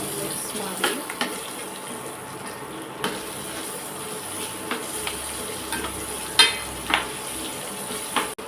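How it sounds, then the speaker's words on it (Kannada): Onions frying in a pan with turmeric give a steady, low sizzling hiss, broken by occasional sharp scrapes of a stirring spoon against the pan. "ಈರುಳ್ಳಿ ಗೋಲ್ಡನ್ ಕಲರ್ ಬರೋವರೆಗೂ ಫ್ರೈ ಮಾಡ್ಕೊಳ್ಳಿ"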